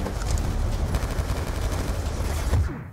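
Dense, continuous gunfire from the Black Ops 2 video game campaign: rapid overlapping shots and bursts that stay loud and close for the whole stretch, then cut off abruptly near the end.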